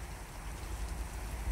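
Snow or hail falls during a May storm, a soft, dense patter and hiss like rain on surfaces, steady and fairly faint with no voices.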